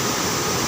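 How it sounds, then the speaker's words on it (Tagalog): A swollen creek in full flood roars with a dense, steady rush of water, loud and unbroken for a brief moment. "Kay grabe ang sapa"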